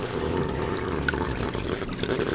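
Gurgling, slurping water draining steadily into an aquarium overflow pipe, a continuous noisy rush with bubbling surges.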